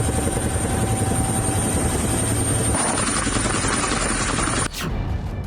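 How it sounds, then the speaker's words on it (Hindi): A helicopter flies above a warship, its steady loud rotor and engine roar filling the whole stretch without a break, then shifting briefly as it passes overhead. "नीचे युद्धपोत, ऊपर हेलीकॉप्टर, होते होते रह गई भीषण टक्कर।"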